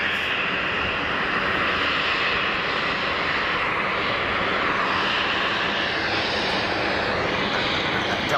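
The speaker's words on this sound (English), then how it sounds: "Air Dolomiti is taxiing at 60 knots" An Air Dolomiti airliner taxiing at Geneva Airport produces a steady, fairly loud broadband engine roar that holds constant throughout, with no voices.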